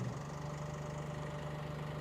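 A Massey Ferguson compact tractor with a front loader idles with a steady, even engine drone and a constant low hum, with no pauses or voices.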